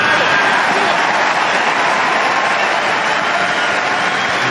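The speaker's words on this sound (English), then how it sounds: "Listen to the crowd now." A large Wimbledon tennis crowd roars and cheers continuously at a mixed doubles final, a dense, loud wash of massed voices and applause held steady throughout.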